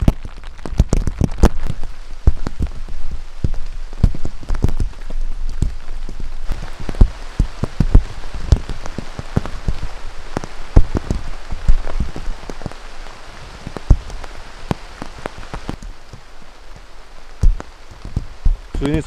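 Heavy rain pelts a surface nearby on a mountain trail up Cerro Picacho, Panama, dense irregular drops and sharp splatters hammering continuously throughout.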